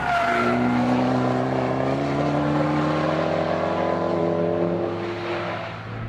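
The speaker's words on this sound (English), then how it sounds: "It's a car that makes you want to go drive it and hammer on it through little corners like this." A Fiat 500 Abarth's small turbocharged engine drones loudly as the car is driven hard through tight corners, its tone rising and falling steadily, heard from inside the cabin.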